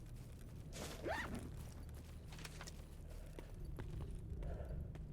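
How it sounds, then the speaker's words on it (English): Hoof footsteps of a wild boar in the game STALKER, a muffled run of clip-clop thuds under steady game ambience, with one short squeal-like cry near the start. "the fucking hoof falls and everything make it sound like there's more of them than there actually are"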